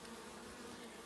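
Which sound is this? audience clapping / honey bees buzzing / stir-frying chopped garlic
honey bees buzzing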